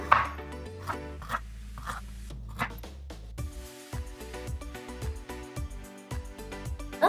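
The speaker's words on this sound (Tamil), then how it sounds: "இதை நல்லா ஃபைனாக ஜூலியன்ஸ் மாதிரி கட் பண்ணிக்க போகிறேன்" A knife cuts a slice of ginger into fine julienne strips on a board, quick light taps coming in an irregular run and then a steadier series of close chops, no talking.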